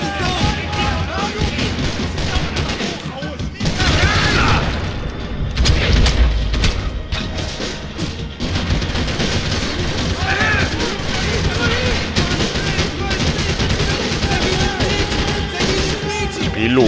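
Sustained Max Payne gunfire and booming impacts run throughout, dense and loud, with a heavier blast near the middle and speech mixed in.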